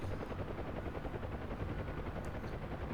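A UH-1H Huey helicopter in a flight simulator game, its rotor and engine a loud continuous droning thump with a dense low-end rumble filling the cabin.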